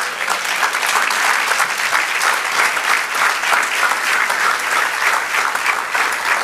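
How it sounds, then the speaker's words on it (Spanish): A church congregation claps steadily during a Spanish-language sermon, a dense, even wash of applause with no break and no audible speech. "Denle un aplauso al Señor."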